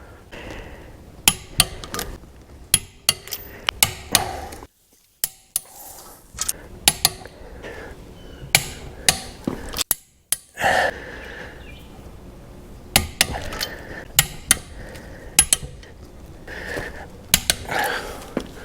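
A torque wrench tightens Tremec TKX five-speed transmission bolts on a Camaro to 35 foot-pounds, giving a series of sharp metallic clicks and ratcheting snaps in irregular bursts, close and loud, with brief quiet gaps between.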